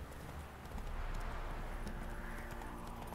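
Roach, Geralt's horse in The Witcher 3: Wild Hunt, trots with a steady clip-clop of hooves over a dense ambient noise bed, moderately close and continuous throughout.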